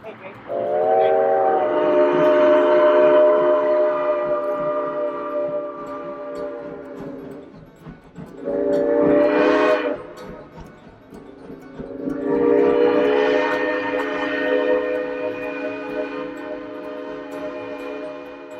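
A Georgetown Loop Railroad train horn in Colorado sounds in long, loud blasts, separated by a brief pause, over the steady rumble of the moving train.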